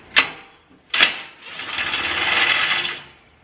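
An impact wrench on a 2020 Toyota Tacoma TRD Off-Road custom skid plate bolt gives two sharp bursts, then a longer steady buzzing run of about a second and a half, close and fairly loud.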